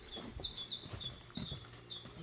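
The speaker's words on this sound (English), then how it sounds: "They're all birds singing away." Birds singing in a woodland along an old railway line in early spring, several faint high chirps and tweets scattered over a quiet outdoor background, with soft rustles and low knocks nearby.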